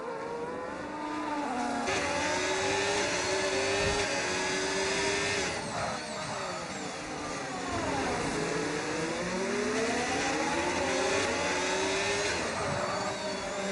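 F1 race cars in a sim racing game at the Azerbaijan street circuit howl continuously, engine pitch rising and falling through gear changes and corners, loud and close with no talk.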